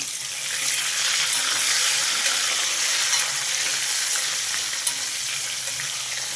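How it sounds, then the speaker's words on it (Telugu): Sliced bitter gourd fries in a pan, with a continuous near sizzle and spatula stirring heard alone, with no talk. "బాగా వేగనిద్దామండి మధ్య మధ్యలో కలుపుతూ ఉండండి లేకపోతే ఒకవైపు వేగి ఒకవైపు పచ్చిగా అట్లా ఉంటాయి"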